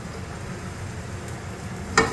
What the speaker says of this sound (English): we're going to saute the garlic first